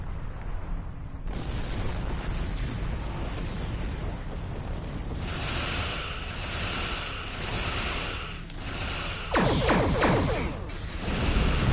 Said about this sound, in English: Shit, ancient quantum torpedoes.